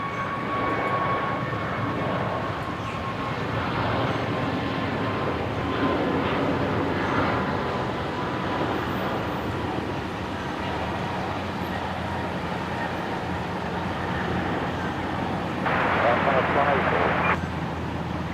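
A Jetstar jet at Brisbane Airport begins its takeoff roll, a broad steady engine roar heard from a distance that holds throughout, with a radio voice briefly over it.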